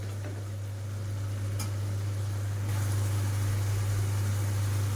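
Grated coconut stir-fried in a pan for a tangra fish curry gives a steady, soft sizzle with faint scraping as it is stirred, over a constant low hum, and grows slightly louder midway.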